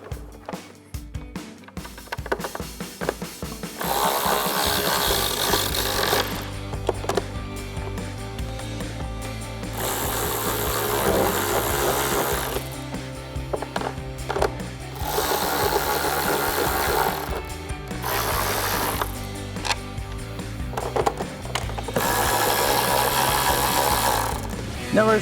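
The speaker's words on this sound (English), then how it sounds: "we're gonna get our 3 Phillips head screws reinstalled" A power driver running in repeated bursts while reinstalling Phillips head screws on a 2011-2014 Dodge Challenger front bumper with an SRT-style chin spoiler lip, several loud whirring runs separated by short pauses and clicks, close by, without talk.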